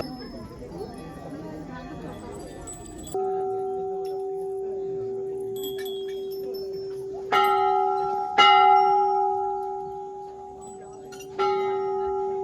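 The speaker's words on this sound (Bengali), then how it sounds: "এখানে অনেক বড় বড় বড় বড় ঘন্টা আছে" Large temple bells in Almora ring out with sustained, shimmering tones, struck again in a few loud clangs whose long overlapping hum fades between strikes, following a few seconds of soft background murmur.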